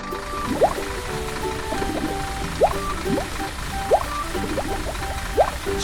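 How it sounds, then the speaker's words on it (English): An animated farm water sprayer sends streams of water over a field: a steady watery wash with repeated bubbly, dripping chirps at a fairly regular rhythm. "The water sprayer spreads its arms and moves into the field."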